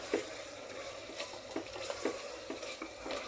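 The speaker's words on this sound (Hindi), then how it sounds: "दो मिनट इसको अच्छे से भुनाई कर लेंगे।" A spoon stirs and scrapes mutton korma as it fries in hot oil and ghee in a pan, with steady sizzling and repeated clinks of the utensil against the metal, close and alone.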